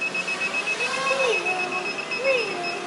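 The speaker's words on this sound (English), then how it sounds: "What's this constant beeping mean?" A steady high electronic beep tone repeats from an FPV receiver, constant and fairly close, with a faint tonal whistle sweeping underneath.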